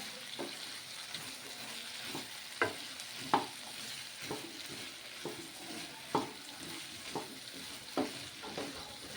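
Bitter gourd pieces being stirred in a cooking pan for curry, with a soft background sizzle and repeated spatula scrapes and taps at an irregular pace, close and fairly quiet, no talking.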